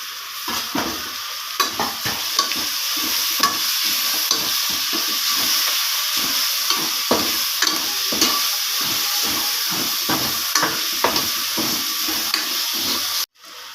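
Tomatoes, green chillies, coriander and mint leaves sauté in a pan for vegetable biryani, a steady close sizzle with repeated scraping stirs of a spoon throughout, ending abruptly.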